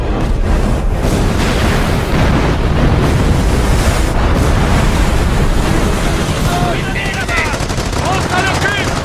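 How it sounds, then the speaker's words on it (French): Artillery barrage in the video game Company of Heroes: loud, continuous rumbling blasts and crackling gunfire blend into a dense wash of battle noise, with voices calling out near the end. "Barrage d'artillerie!"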